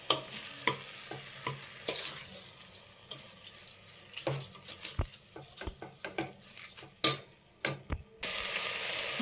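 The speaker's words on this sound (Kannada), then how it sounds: "ಅದು ಎಣ್ಣೆಲಿ ಒಂದು 2-3 ನಿಮಿಷ ಚೆನ್ನಾಗೆ ಫ್ರೈ ಆಗಬೇಕು" Rice and peas frying in oil in a pot while a spoon stirs them, sharp scraping clinks repeating irregularly over a soft sizzle, up close with no voices.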